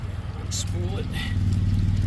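A drain cleaning machine reels its cable back in after clearing thick tree roots from a septic leach field line, a steady low motor hum with faint scraping, as people talk over it.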